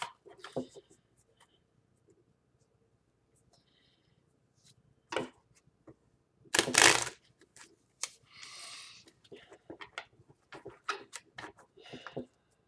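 Tarot cards that bend easily being handled and shuffled: sparse, close taps and flicks, one brief louder riffle, then a quick run of small card snaps, with quiet gaps between them.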